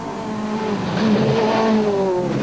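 A Volkswagen Polo rally car on a stage of the Garden Route Rally, its engine loud and close, revving and shifting pitch through a short pass with tire noise, no talk.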